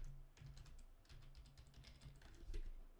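Computer keyboard keys pressed for Photoshop shortcuts, a steady run of close, crisp clicks and taps in quick irregular succession with no talking, over a low background hum.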